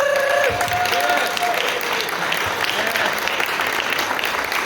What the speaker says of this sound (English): Some huge round of applause for our candidates.